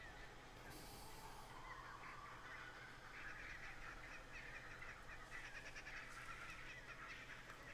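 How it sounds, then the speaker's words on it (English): Birds calling in the ambient soundscape of the video game New World, faint honking, goose-like calls repeating over a low steady background hum. "Lots of birds here."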